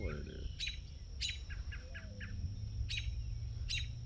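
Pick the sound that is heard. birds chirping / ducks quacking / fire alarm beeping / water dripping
birds chirping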